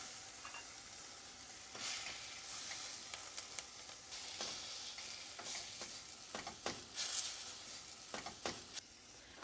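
Onions and spinach sizzle steadily in a pan while a utensil stirs and scrapes through them, sharp scraping bursts rising over the frying hiss; quiet and fairly close, no voices.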